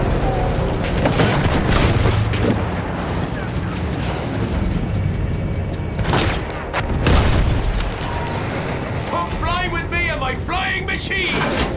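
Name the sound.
field gun firing in video game Battlefield 1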